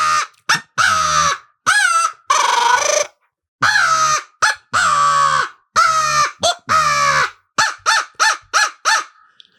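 A turkey locator call mimicking a crow gives loud, close, harsh caws in quick bursts, some drawn out and some clipped, ending in a rapid series of short notes with no talk.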